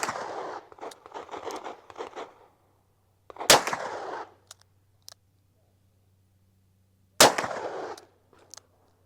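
Two sharp, loud gunshots from a 1996 Colt Python 4-inch stainless revolver crack several seconds apart outdoors, with brief rustling and clicking between them.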